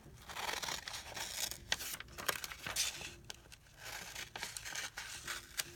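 Scissors cut through magazine washi paper, with crisp snips and paper crinkling in an uneven rhythm, close up and fairly quiet, with no talking.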